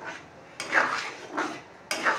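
Kabuli chana being stirred in a pan, three separate scraping, clattering strokes of a spoon against metal, close and moderately loud with no talk.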